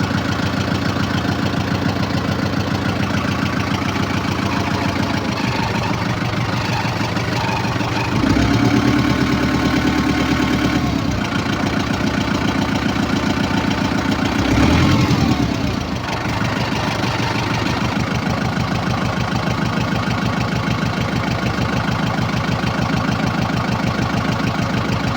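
An airplane engine idles before take-off, a steady droning hum that holds throughout, swelling briefly louder twice, with no voices.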